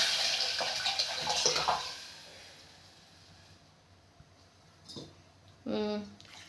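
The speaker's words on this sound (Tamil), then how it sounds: "புளி கரைச்சல்லாம் எல்லாமே ரெடி பண்ணி வச்சுருந்தாலும் அதை அப்படியே ஊற்றிடணும்" Tamarind water poured into a pot of rasam makes a soft liquid splash and hiss at first, then quiet, followed by a brief louder splash near the end.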